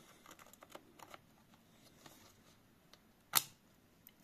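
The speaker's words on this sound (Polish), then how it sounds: "Klik wyraźny, obie pamięci trzymają się" Soft fiddling and light taps, followed by one crisp, loud click as a Patriot RAM stick seats into the second slot, heard up close.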